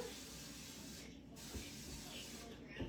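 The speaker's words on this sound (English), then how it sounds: "we're gonna cook it with some avocado spray on my pan" A steady broadband hiss of avocado oil cooking spray from a can onto a pan, running nearly continuously with a brief pause partway through, close and moderately loud.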